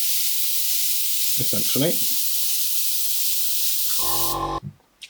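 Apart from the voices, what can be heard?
airbrush blowing air to dry paint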